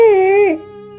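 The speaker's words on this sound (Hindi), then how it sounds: "अरे ये रोने की आवाज किसकी है?" A cartoon boy cries in a loud, wavering wail that breaks off and falls to a quieter, steady whimpering tone, alone with no talk over it.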